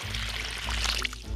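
Water dumped from a toy excavator bucket onto a newly planted raspberry bush, a short, close, steady pouring splash that tapers off near the end, with no talking.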